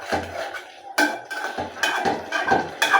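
A spoon scrapes and clanks against a cooking pot while spices are stirred into softened vegetables, several separate metallic knocks and scrapes at close range with no talk.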